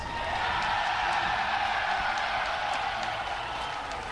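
A large live crowd at The International 2017 Dota 2 esports tournament cheers for Team Liquid, a steady dense roar of voices that fills the arena without letup.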